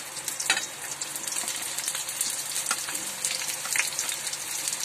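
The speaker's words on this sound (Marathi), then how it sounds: "हे माझं तेल गरम झालंय, त्यात मी कांदा भाजते" Onion sizzles and crackles in hot oil for Malvani chicken rassa, a steady close frying hiss with occasional sharper pops and stirring scrapes.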